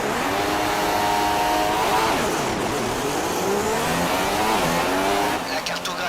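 Formula 1 cars on a formation lap in China in the F1 2016 video game drone loudly and continuously, several engine tones rising and falling together as the cars rev and shift.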